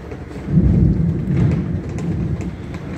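A deep, rolling rumble of thunder from a strong early-morning storm near Grenoble in the Alps swells and lingers, loud and close, with steady rain hissing beneath it.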